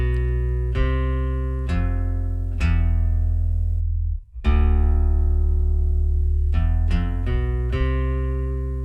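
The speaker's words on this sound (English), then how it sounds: "After the reverb, we have sub-guitar channel that creates this really nice bass" An acoustic guitar played through a MainStage patch with reverb and a sub-guitar bass channel, giving a series of plucked notes and chords ringing over a heavy sustained low bass layer, with a brief gap midway.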